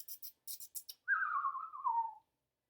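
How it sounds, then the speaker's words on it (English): A small bird gives one clear, sliding whistled call that drops slowly in pitch over about a second, after a few quick soft chirps, faint and close in otherwise quiet surroundings. "He thought she was simply chirping."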